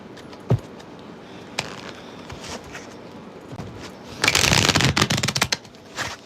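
A tarot deck, a golden deck, is shuffled by hand: scattered soft card flicks and taps, then a dense, loud burst of riffling cards close up near the end.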